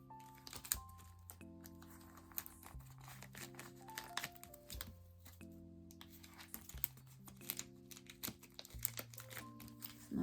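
Plastic binder sleeves crinkle and rustle close up as small circle photocards are slid in, in irregular soft bursts over a quiet tonal background.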